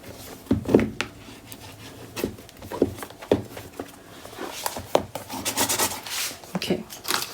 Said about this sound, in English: I'm going to use my bone folder to burnish everything into place.